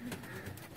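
A low flyer breed pigeon coos softly in a brief, low murmuring call, close by and alone.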